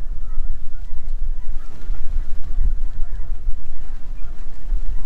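Snow geese honk in a large flock during a goose hunt in Alberta, a loud, dense and continuous chorus of overlapping calls held steady through the whole stretch.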